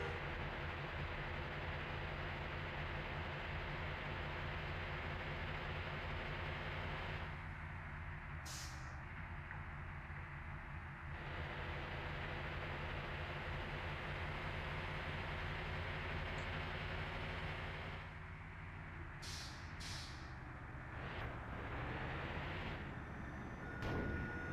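A train runs past in the Bus Simulator Indonesia game, a steady low rumble and clatter of railcars that holds for the whole stretch, with brief higher squeals and no talking.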